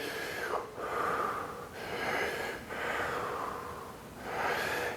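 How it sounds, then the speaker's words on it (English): Deep diaphragmatic belly-and-chest breathing in a Wim Hof style exercise, with rhythmic loud inhales and exhales, about four full breath cycles, breathy and close. "diaphragmatic breathing"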